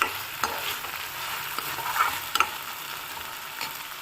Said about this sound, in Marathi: डाळ टाकल्यास ते पण मिक्स करून घेऊ.